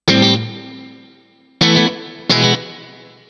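Electric guitar through a Strymon Cloudburst reverb pedal with the tone turned down for a dark, muffled reverb: three loud strummed chords, the first left to ring out in a long fading wash, the next two cut off more quickly.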